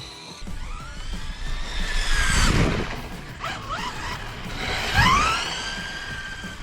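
RC street basher car driving and drifting on pavement, with two loud rising-and-falling whines of the electric motor as it powers through slides, tires scrubbing between bursts.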